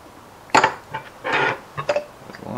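Nylon lock nuts are being started onto a length of all-thread rod for homemade bank rod holders, heard as a few close, short metallic clinks and rattles in separate bursts, with no talk.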